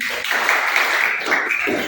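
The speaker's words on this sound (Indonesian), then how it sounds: "Oke, tepuk tangan." A classroom of students claps together in a dense, steady patter that holds evenly for a couple of seconds.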